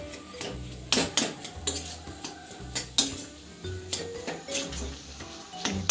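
A spoon stirs banana sheera cooked in ghee in a metal pan, giving repeated scraping and clanking strokes in an uneven rhythm, close and fairly loud, with a faint sizzle underneath and no talking.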